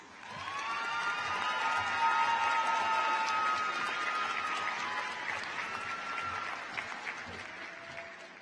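A high school graduation crowd in a large hall bursts into applause and cheering for a group of graduates, a swelling wash of clapping with high shouts and whistles that gradually fades.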